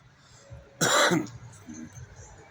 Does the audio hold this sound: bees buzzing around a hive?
no